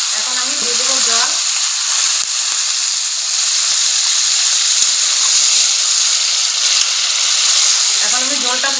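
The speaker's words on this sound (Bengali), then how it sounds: "এখন আমি দিয়ে দেবো জল" Water hits a hot pan of cauliflower and potato curry, a loud continuous sizzling hiss that holds steady, with a voice speaking briefly at the start and end.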